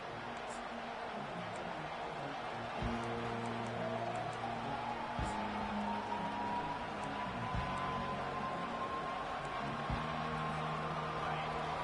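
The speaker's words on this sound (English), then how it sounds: "They challenge this crowd to bring the energy, and I'd say they're doing that." At a Longhorns college football kickoff, a stadium crowd roars as a dense, steady wash of cheering and noise that fills the whole stretch, heard far off, with no clear individual voices.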